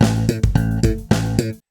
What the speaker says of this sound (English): where you, for example, slap an A and then do a pull on the octave